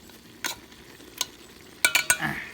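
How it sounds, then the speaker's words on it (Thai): Herbs are stirred in a cooking pot for Thai-style chicken, with a few scraping strokes of a utensil against the pot over a gentle sizzle, ending in a quick cluster of clinks. "แล้วเราก็จะคนนิดนึง"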